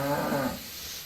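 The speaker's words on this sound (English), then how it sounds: "Oh, this is the cattle." A brief cattle moo from the Railway Empire 2 video game, a short low lowing call fading out within a second, moderately loud over faint background noise.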